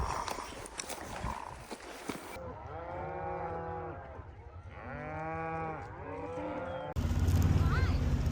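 Cattle low and moo repeatedly in overlapping calls while a large herd is gathered and moved on summer grazing land, the bellows close and loud amid steady shuffling and outdoor rumble.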